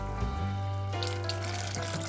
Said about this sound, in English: So I'll just add some more water and let it cook for some more time